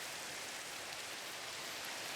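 Steady rain falling in the video game Minecraft, a continuous even hiss of drops spread across the whole clip at constant level, with no talking over it.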